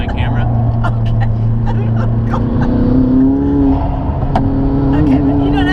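McLaren engine droning and revving under launch control, a steady loud hum with pitch rising, while people talk over it inside the car.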